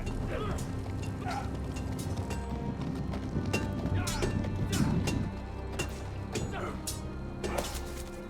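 Horse hooves clip-clop steadily and fairly close in the Game of Thrones Telltale video game, with creaking and mechanical rattles over a low background rumble, while someone speaks.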